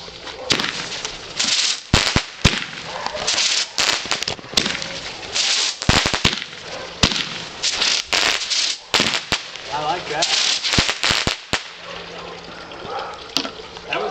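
A seven-shot Toot n Twirl consumer firework fires a series of sharp bursts with crackling and whistling between them, spread unevenly across the clip, with people talking faintly nearby.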